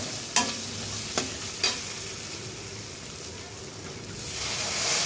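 A few sharp clinks of a utensil against a pan over hot, cooked-down spice masala for potato posto dalna, then a broad hiss building near the end as water goes into the hot pan.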